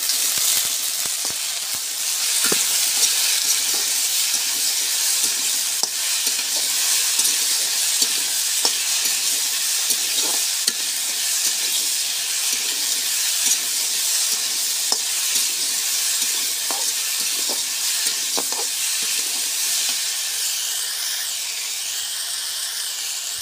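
Small jatka fish fry in hot oil in a pan, seasoned with turmeric, salt and green chilli. A loud, steady sizzle with hiss runs throughout, broken by frequent light stirring clicks and scrapes.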